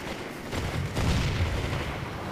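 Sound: gunshots from an enemy in a video game

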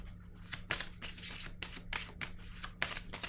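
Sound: drawing a pink oracle card from a deck

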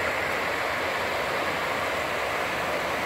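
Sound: whitewater rapids of a small creek

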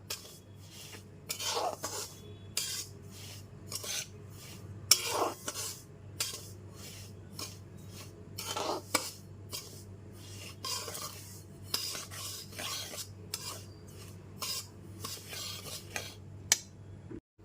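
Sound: stirring semolina frying in a pan for halwa

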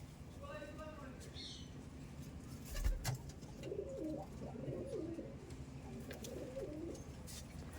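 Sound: Madrasi and Malbayi pigeons cooing

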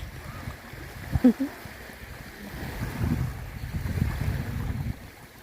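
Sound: rough sea waves and wind on the coast in Finland

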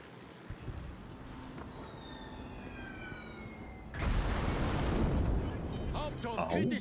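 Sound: gunfire and artillery shooting ammunition into the air, from a video game

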